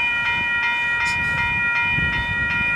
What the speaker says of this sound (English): So we'll just wait now for a train